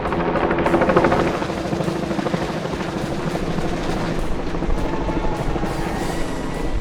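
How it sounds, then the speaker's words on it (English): A helicopter carries the OSIRIS-REx sample capsule toward a clean room, its rotor thumping steadily and loudly throughout, fairly close and alone, with no speech. "the capsule was secured and picked up by a helicopter to be dropped next to the clean room"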